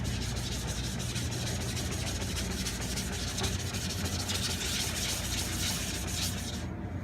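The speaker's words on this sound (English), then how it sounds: "So what I do is I use a flattening plate." A flattening plate is rubbed back and forth across a knife sharpening stone, a continuous loud gritty scraping with quick regular strokes, close up and unbroken for several seconds.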